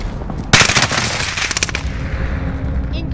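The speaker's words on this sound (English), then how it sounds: "Incoming rounds." Rapid bursts of automatic gunfire crackle loudly in a first-person shooter match, a dense stuttering volley that tapers off, with faint voices of players underneath.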